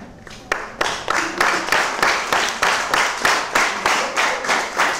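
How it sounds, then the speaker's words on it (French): An audience at a party gathering claps in unison, a rhythmic series of loud, evenly spaced beats that settles into a steady pulse of roughly three claps per second. "le camarade président Jacques Ayadi, que je vous demande d'applaudir."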